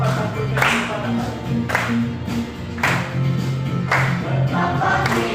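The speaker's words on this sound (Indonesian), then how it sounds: "Bapak tampilkan tepuk tangan." A teacher claps hands in a slow steady rhythm, about one clap per second, sharp and fairly close, over singing and a low musical drone in a classroom.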